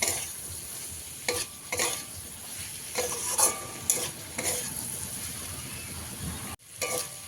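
Sago pulao ingredients are stirred and mixed in a pan, with repeated scraping strokes of a spoon over a soft, continuous sizzle, close and moderately quiet.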